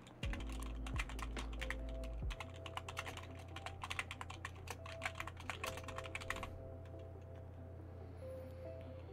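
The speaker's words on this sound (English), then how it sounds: "I didn't know I was that bad at typing." Rapid, uneven typing on a computer keyboard clatters steadily for several seconds over a low background hum, then stops, leaving only faint room noise.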